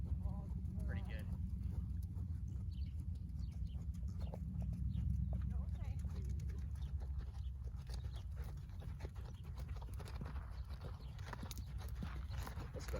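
Dakota the horse walks under a rider, hooves clip-clopping in a steady, quiet rhythm against low rumbling background noise and faint outdoor sounds, with a voice speaking softly now and then.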